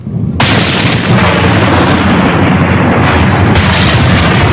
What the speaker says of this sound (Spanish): con un rugido de cataclismo, el Galeras explota